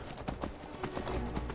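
Horse hooves clip-clop in rapid, even beats in the game Skyrim, loud and close as the horse moves along at a steady trot.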